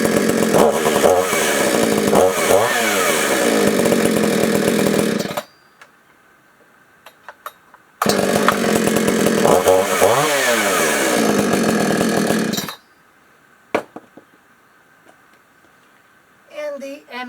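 Two bursts of a Stihl MS-250 Farm Boss chainsaw with a 20-inch bar, each starting on a pull and running loud with revving for several seconds before cutting off, followed by quieter clanks and a brief distant engine sound.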